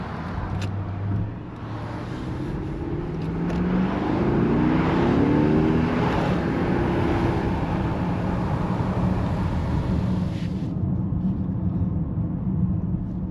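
A Mercedes-Benz GLE 580 with a V8 engine growls while driving at night, a loud, close, sustained cabin rumble that builds in pitch as it accelerates, then settles into a steady drone.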